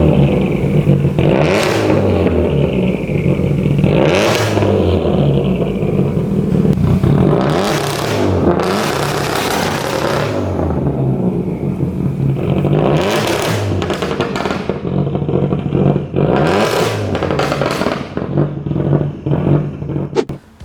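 Subaru GC8 Impreza engine revving hard with anti-lag launch control, loud and close, repeated sharp throttle blips and crackling pops across the whole stretch with no talking.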